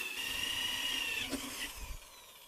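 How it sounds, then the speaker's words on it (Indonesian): A power drill runs a 38 mm hole saw through material for a hydroponic vertical tower, a steady high whine with a brief bite in the middle before it winds down near the end. "lanjut kita lubangi menggunakan mata bor hole saw seperti ini yang 38 mili"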